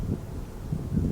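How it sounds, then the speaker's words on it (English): Gusty wind blows across an outdoor mountain disc golf course, a steady low rumble of moderate loudness that swells louder toward the end with no talk over it. "Getting windy out there."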